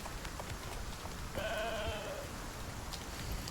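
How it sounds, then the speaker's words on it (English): A single sheep bleats once in the Icarus video game, a short wavering call in the middle over a quiet ambient background. "I do see a sheep with wool."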